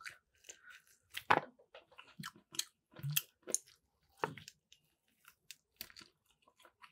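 A tough piece of chicken in sauce is chewed close up, giving quiet, irregular wet chews and crunchy bites separated by short silences.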